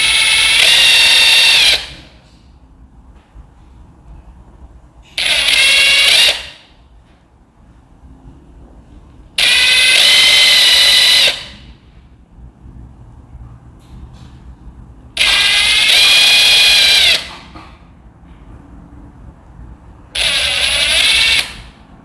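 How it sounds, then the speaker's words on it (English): Power drill driving screws into the playfield panels of a KICK Trilogy 55-inch 3-in-1 multi game table, heard as five separate loud whirring bursts of about two seconds each, with quiet gaps between them. "So I'm going to go ahead and insert your screw and secure."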